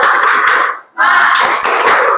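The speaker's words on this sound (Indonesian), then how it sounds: "Seperti biasa, tepuk semangat." A classroom of students claps together in a quick, rhythmic pattern, pauses for a moment, then resumes a second burst of sharp, close hand claps.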